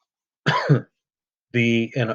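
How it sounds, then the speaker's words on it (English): Two separate bursts of coughing with a pause between them, close and fairly loud, the second longer and more voiced. "pardon my cough too"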